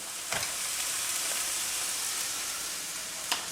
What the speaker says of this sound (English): onion and garlic's frying off nicely